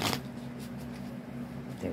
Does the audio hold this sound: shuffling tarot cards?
yes